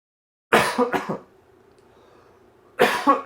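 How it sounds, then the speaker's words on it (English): A single person coughing into a nearby microphone: two sharp harsh coughs in quick succession, a quiet pause with faint background hum, then another cough burst. "I'm so sorry about all the coughing"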